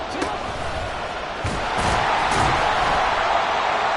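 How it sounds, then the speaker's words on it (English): Stadium crowd roar in the Madden 24 football video game, a broad sustained wash of noise that swells louder partway through, with a few thuds over it. "A big play here as the crowd noise rises."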